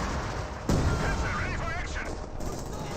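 Rapid rifle fire from a Grenadier squad's bolt-action rifles in the wartime strategy game Company of Heroes 2, a dense run of sharp cracks and booms layered with other battlefield gunfire and explosions.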